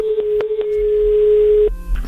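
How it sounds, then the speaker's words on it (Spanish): A telephone line after a dropped call: a few quick pulses, then a loud steady tone held for over a second and a half before cutting off, with faint clicks afterward. "Se ha cortado el teléfono otra vez."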